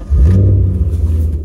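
A Chevrolet Corvette C5 Z06, heavily modified with a full exhaust and long-tube headers, revs hard in an acceleration pull, a loud deep engine roar that climbs quickly and then holds steady, heard alone without talk.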